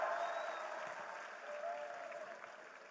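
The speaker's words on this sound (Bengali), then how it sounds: "সবার জন্য সজোরে করতালি" Faint, distant applause from the audience at a university graduation ceremony for the new graduates, a continuous soft wash of clapping that slowly tapers.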